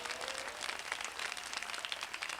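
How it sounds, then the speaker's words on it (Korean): Applause from a congregation at an evening worship service of a church youth conference fills the space with dense, continuous clapping, steady and moderately loud, with no talking. "살아계신 하나님께 영광의 박수를 올려드립시다."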